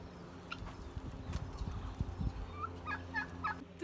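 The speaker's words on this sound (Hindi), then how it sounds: "इतनी सारी बर्ड्स हैं यहाँ, मुर्गियाँ हैं, डक्स हैं, ऑस्ट्रिच हैं।" Farm birds including hens, ducks and ostriches on a hike near Jeddah, giving scattered gobbling and clucking calls over outdoor rumble and footstep-like clopping.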